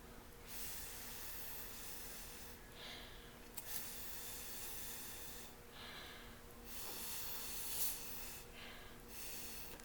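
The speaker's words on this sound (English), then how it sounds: "I'm going to take my trusty straw and I'm going to start blowing" Breath is blown in bursts through a straw to push paint across paper for ocean coral blow painting, with several soft airy gusts that start and stop against a faint steady background hiss.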